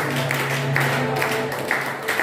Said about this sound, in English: Somebody clap your hands and thank God.